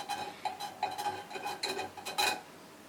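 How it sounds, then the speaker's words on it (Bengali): A sharp knife scrapes residue from the edges of a nonstick pan in quick, short strokes, about a dozen close metallic scrapes in an uneven rhythm. "ধারালো একটা চাকু নিয়ে এভাবে চিকন যে জায়গাটা থাকে সেভাবে দিলে উঠে যায়"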